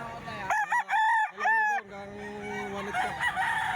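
A Hatch Gray gamecock with a street comb crows loudly and close in a long harmonic call broken into segments, followed by lower clucking and background noise.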